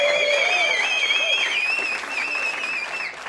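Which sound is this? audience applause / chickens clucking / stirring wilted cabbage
audience applause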